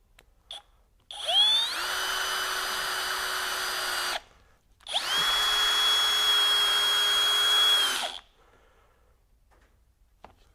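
A Hercules HCB92B 20V hammer drill driver whines steadily in two long runs of about three seconds each, driving a 3.5-inch deck screw into wood at clutch setting 7, separated by a short pause, loud and close.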